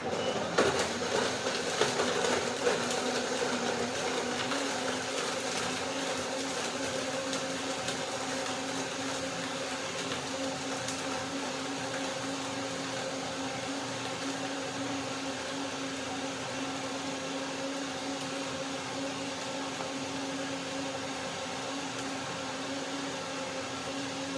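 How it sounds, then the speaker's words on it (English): A blender runs continuously, blending ice for a date, cashew and peach shake, with a rough grinding start before settling into a steady motor whir, no talking. "I need a little bit of liquid here, down there, to get the blender started."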